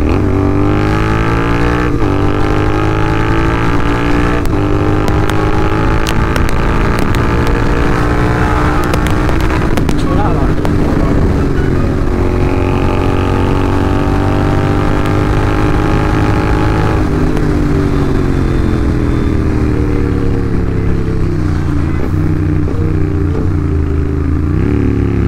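A GT650 motorcycle rides along a road at night, its engine droning loudly and continuously with rising and falling revs as it accelerates and shifts, under heavy wind rush.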